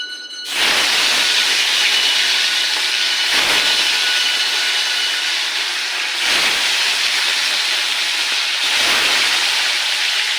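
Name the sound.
frying food pieces in a pan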